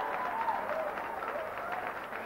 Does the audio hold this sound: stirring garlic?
no